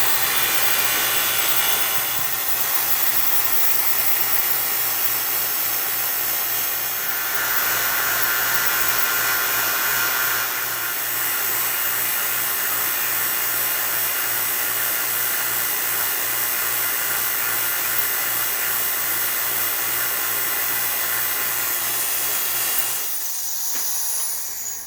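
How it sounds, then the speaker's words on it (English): A vacuum pump runs steadily while stabilizing a wood pen blank, giving a constant loud hiss with a low hum underneath that holds for the whole stretch and cuts off near the end. "Okay, we'll start the vacuum."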